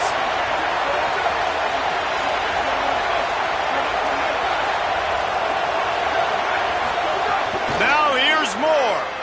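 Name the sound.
football crowd cheering for the defense, from a video game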